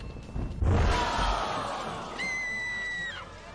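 A character screams in the Rock of Ages 3 video game: a loud, sustained crowd-like yell over rumbling game sounds, with a high tonal effect entering near the end.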